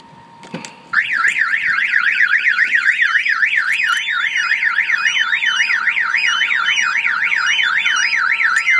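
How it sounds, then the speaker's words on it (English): A loud car alarm wails in a rapid, repeating up-and-down siren pattern, starting abruptly after a faint click and continuing steadily. "If somebody comes and opens the door, that will fire off the alarm."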